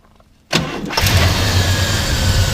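A 1966 Buick Skylark GS convertible cranks briefly and catches, its V8 bursting into a loud, close rumbling idle that settles into a steady, throbbing run with no talking.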